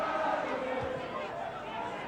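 Football crowd in a Swansea stadium at a Wales versus Iceland match, a broad, distant roar of cheering and chatter that stays fairly even and faint throughout.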